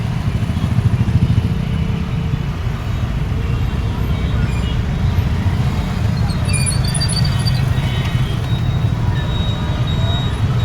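Dense, steady roar of traffic at the Kothalli flyover junction in Bengaluru, with cars, buses and motorcycles rumbling continuously and a few faint horn toots partway through, loud and unbroken throughout.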